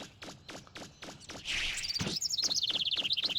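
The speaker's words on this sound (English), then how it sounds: "You probably hear those birds in space." Birdsong plays in the video game Mega Man Legends: rapid chirps and trills over a steady run of rhythmic footstep-like game thuds, moderately loud and with no voice.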